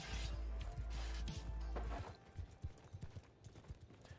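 A horse gallops in the medieval combat game Mount & Blade II: Bannerlord, its quick rhythmic hoofbeats clopping fairly faintly, first over a low rumble and then more sparsely with scattered knocks.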